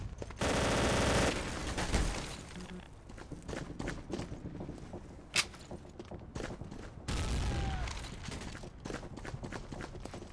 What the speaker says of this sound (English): This is the most powerful German machine gun back in World War II, and the most powerful machine gun actually in the game too.